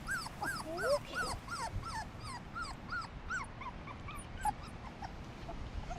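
A four-week-old puppy whimpers in a string of high, rising-and-falling whines and yips, close and fairly soft, repeating rapidly over a low background hum.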